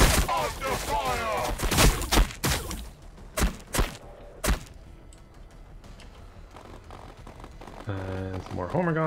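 Several sharp shots and thuds of gunfire from Warhammer 40,000: Battlesector ring out in uneven bursts over the first few seconds, then fade to a quiet hum, with a person talking at the start and end.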